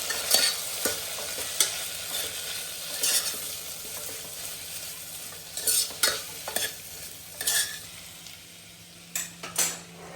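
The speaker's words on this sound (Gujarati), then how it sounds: "હવે આપણે જે મસાલો તૈયાર કર્યો છે તેને લઈ અને બધા સાથે સરસ મિક્સ કરીશું" Kankoda being stirred with prepared masala in an open pressure cooker produces a low sizzle under repeated close metallic scrapes and clinks of the spoon against the pot, irregular in rhythm, with no voices.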